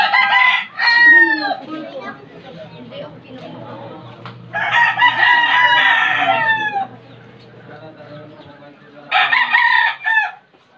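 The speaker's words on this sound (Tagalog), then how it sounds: "Nakikita mo maraming manok ko." Backyard chickens and a rooster: three loud, close cock-a-doodle-doo crows with clucking in between, and faint human talk in the background.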